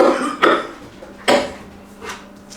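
A person coughing indoors, three separate short harsh bursts spaced about a second apart, the last one fainter, with light clinks in between.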